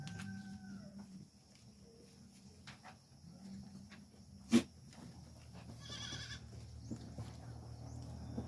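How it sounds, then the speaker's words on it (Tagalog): Goats on a farm bleat during feeding time, single calls scattered over a quiet background with a brief sharp knock midway; faint voices and other livestock sounds are nearby. "So feeding tayo ngayon sa ating mga kambing."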